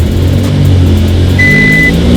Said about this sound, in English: look at the RPMs as I give the throttle